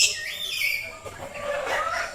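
Birds call in a garden in Ubud, Bali, with a few whistled, tweeting notes rising and falling over a short stretch, fairly close and clear against quiet background noise.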